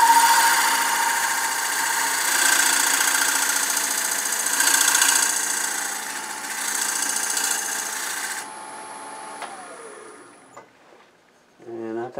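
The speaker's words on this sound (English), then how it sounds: "Okay, so we're going to use this cove tool. Make a tiny little cove here." A wood lathe hums steadily while a cove tool scrapes against spinning wood in an even, continuous whine, then the machine winds down and stops.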